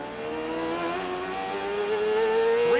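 An IndyCar race car engine roars loudly and close during a race, its pitch climbing steadily as it revs through a gear, with no voices over it.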